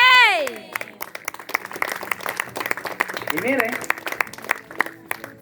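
A church congregation claps in a busy, uneven burst lasting several seconds, with sharp individual claps and a preacher's voice speaking loudly over the start and middle.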